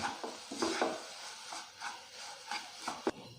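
A spoon scrapes and stirs melted jaggery into ground flattened rice and coconut in a pan, with close, rhythmic scraping strokes and soft clinks and no talking.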